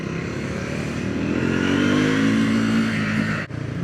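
A Triumph 400X Scrambler motorcycle engine revs loudly and close, rising in pitch then dropping off briefly near the end before picking up again.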